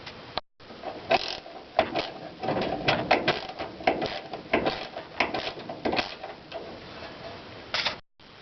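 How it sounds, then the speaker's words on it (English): A ratchet with a 14mm socket works loose the air bag nuts on a Chevy C20 truck, producing bursts of quick metallic clicking with short pauses between strokes, close up. "They're 9/16, but a 14mm socket will do it."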